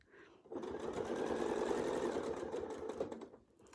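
A sewing machine stitches a wreath design in a steady, continuous run of about three seconds, starting and stopping cleanly, close and moderately loud with no talk over it.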